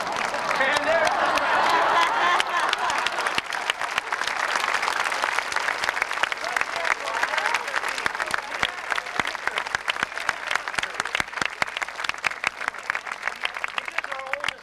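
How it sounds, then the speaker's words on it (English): An audience at an animal park elephant show breaks into loud, sustained applause. Dense clapping starts strong and slowly thins out. "She knows how to get every bit of applause from the audience"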